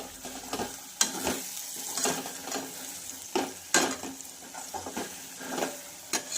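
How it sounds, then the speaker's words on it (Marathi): Fried paneer being stirred into a sizzling curry in a pan, with a steady oily sizzle under repeated scraping stirs and clinks of the spoon, close and fairly loud, no talk. "आणि छान असं मिक्स करून घ्यायचं आहे।"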